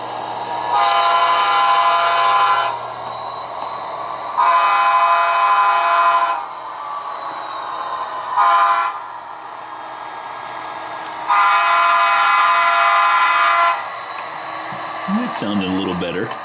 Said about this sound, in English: Let's go ahead and get the locomotive across the street here.